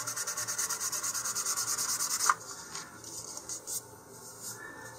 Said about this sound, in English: you may also want to give it an additional sanding with some 400 grit sandpaper